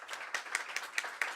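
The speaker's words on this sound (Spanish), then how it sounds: "que creo que merece el aplauso, realmente" Audience applause at a national labour-law conference panel: a brief, steady patter of many hands clapping, fairly loud and close, with sharper individual claps popping out every fraction of a second.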